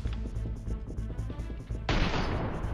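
A crossbow sniping shot in PUBG Mobile, heard as a sudden loud burst of broadband impact noise that cuts in near the end, following a steady stretch of dense game sound and music.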